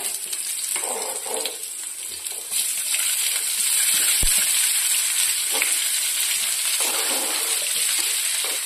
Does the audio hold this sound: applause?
no